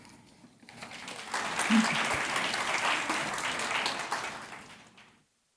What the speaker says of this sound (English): please, everybody give a big round of applause for both of our presenters